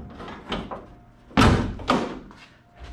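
A door on a Factory Five 35 hot rod truck, not yet connected to a handle, is popped open by reaching inside: a few close, soft thumps and a louder clunk midway, with low handling noise and no talk.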